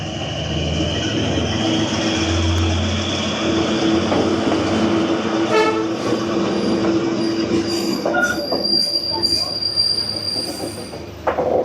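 A train rumbles past in Hanoi with loud, high-pitched wheel squeals rising and fading, metallic screeches near the end.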